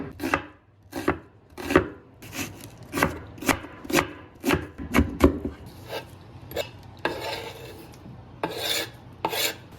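A knife chops cilantro and onion on a cutting board for a chile de molcajete, with irregular sharp chops in bursts, some quick runs and a few scraping pauses, close and alone.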